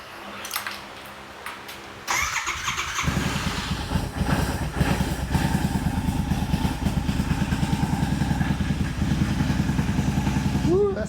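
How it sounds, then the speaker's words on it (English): After a short stretch of fan noise, a Revelry 700cc kit motor cranks, catches and settles into a steady, fairly quiet idle with an even rhythmic chug, close by and alone. "That motor is quiet as it can be."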